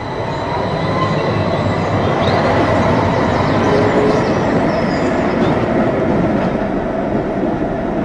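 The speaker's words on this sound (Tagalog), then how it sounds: "Paalis na yung unang tren." An anime train pulls out of a station, a loud, continuous rolling rumble with faint wheel squeals and rail clatter running steadily throughout, with no speech.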